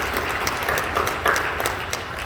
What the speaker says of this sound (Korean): 박수로 정리해 주시고 고맙습니다.